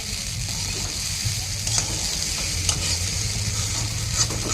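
Pasta stirred and fried in a pan, a steady close sizzle running throughout with scraping stir strokes and light clinks layered over it, no voices.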